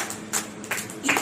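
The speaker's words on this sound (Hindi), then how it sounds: "तो जोरदार तालियां बाबा जी के लिए।" Applause for a poet at a Hindi poetry gathering, scattered handclaps in a few brief bursts rather than a full ovation, moderately quiet and close.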